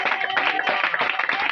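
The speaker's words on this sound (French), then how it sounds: "je demande aux membres d'applaudir très fort cette victoire" Members at a Congolese political gathering of the MRJUCO movement applaud loudly in a dense, continuous wash of clapping, steady and close throughout with no pauses.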